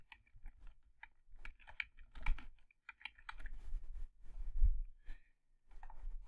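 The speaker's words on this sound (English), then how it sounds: "You just type in your custom domain name." Light, irregular keystrokes on a computer keyboard while a custom domain name is typed in, soft clicks arriving in short bursts with brief pauses, quiet and close.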